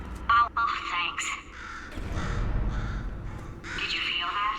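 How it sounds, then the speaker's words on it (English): A crow in the video game Portal 2 gives several harsh caws near the start, then speech continues over faint background sound. "Could you, murder this bird for me?"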